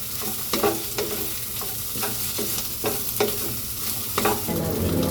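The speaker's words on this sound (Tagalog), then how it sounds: "Halo-haloin lang natin." Pancit canton is stirred in a hot pan, with rhythmic, close spatula scrapes about once a second over a continuous sizzle and no voices.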